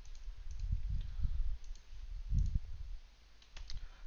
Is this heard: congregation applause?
no